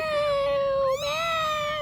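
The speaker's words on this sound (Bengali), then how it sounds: "ম্যাও, ম্যাও।" A cat gives a single drawn-out meow with a clear tonal wail, close and fairly quiet, its pitch sliding and bending midway through, alone without talk.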